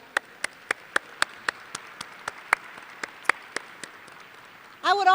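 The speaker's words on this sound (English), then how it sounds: "I would ask the graduates to please give yourselves a round of applause." Sparse, evenly spaced single claps at a university commencement, a dozen or so sharp hand claps in a slow rhythm, ending as a voice begins to speak.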